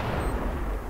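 Gunfire in the CS:GO competitive shooter, a brief loud burst of dense booming shots that packs the whole moment with no gap between reports.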